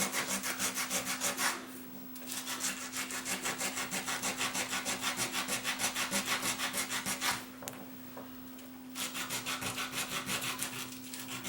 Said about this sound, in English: I'm just going to get some aluminum oxide paper and polish this up.